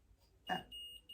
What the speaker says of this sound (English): is that your phone? Yes, that's my phone beeping.